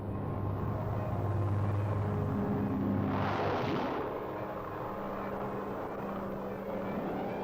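Military planes taking off for a Korean War combat zone, likely World War II-era Mustang fighters, make a steady, loud propeller and engine roar. The roar swells as an aircraft passes close by near the middle, then settles back into a continuous drone.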